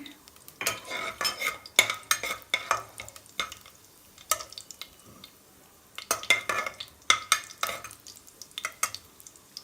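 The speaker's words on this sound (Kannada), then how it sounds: "ನೋಡಿ ಫ್ರೈ ಆಗ್ತಾ ಇದೆ." Dried red chillies and cumin fry in a pan for gongura chicken curry, with bursts of metal spoon scraping and clinking against the pan over a light sizzle, coming in uneven clusters separated by quieter gaps.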